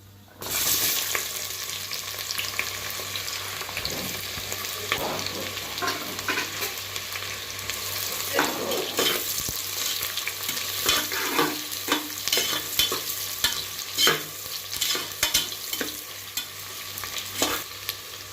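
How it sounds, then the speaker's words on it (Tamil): Onions and whole spices fry in hot oil for vegetable biryani, a continuous bright sizzle broken by frequent scrapes and taps of a ladle stirring the pot, near and alone. "அது கூடவே வெங்காயம் சேர்க்க போகிறேன்."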